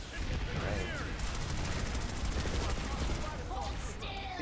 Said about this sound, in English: Stop shooting my turret.